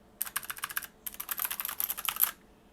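Clicky Gateron switches on a MelGeek Mojo68 keyboard clatter in two quick bursts of typing, crisp close-up keystrokes with a brief pause between runs and no talking.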